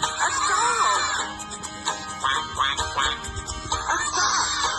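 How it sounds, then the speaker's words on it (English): Duck quacking in short nasal bursts over a children's farm song with music and singing, several quacks spaced through the passage. "A duck!"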